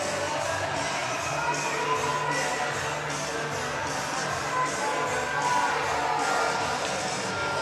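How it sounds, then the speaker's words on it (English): An ice hockey crowd at Hull Jets against Nottingham Lions keeps cheering after a goal, a broad ongoing roar of voices with rhythmic clapping pulses running steadily through it. "And the crowd go wild."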